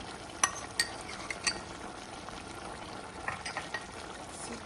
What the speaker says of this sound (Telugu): ఇప్పుడు అల్లం వెల్లిపాయ పేస్ట్ వేద్దాము